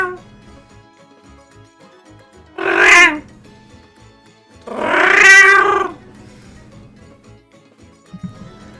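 A human voice imitates a cat with two drawn-out meows, the second longer than the first, separated by near silence.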